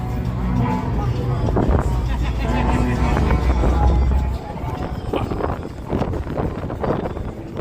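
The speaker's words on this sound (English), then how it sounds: "Oh, now the wind." Outdoor wind buffeting a microphone on a Las Vegas street, a loud low rumbling roar that swells for several seconds, then eases into gusty bursts.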